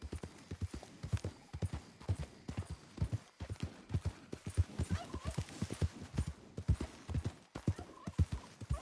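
Horse hooves clip-clop steadily and rhythmically in Red Dead Redemption 2, the close, regular footfalls running unbroken under a light bed of ambient game sound.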